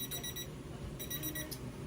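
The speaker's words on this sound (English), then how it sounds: "the timer has gone off" A kitchen timer alarm beeps in a rapid repeating pattern at moderate volume over a steady background hum in a kitchen where goat's milk is being made into feta cheese, with no voices.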